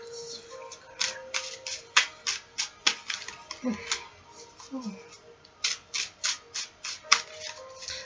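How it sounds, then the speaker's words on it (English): Cards being drawn one after another from a Rider-Waite tarot deck, a quick series of crisp, near snapping and flicking sounds in two bursts, with a soft voice murmuring faintly underneath. "Let me get 5 cards."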